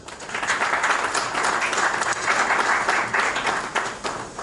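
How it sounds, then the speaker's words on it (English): An audience at a branch chairman and executive committee investiture claps steadily for two honorees, a dense sustained applause that holds at an even level throughout. "Can we clap for both of them, please?"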